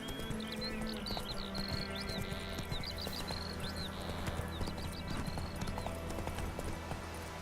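Roach, a horse in the video game The Witcher 3, gallops in a steady clip-clop rhythm of hooves, with a whinny and chirping birds in the background, at a moderate distance.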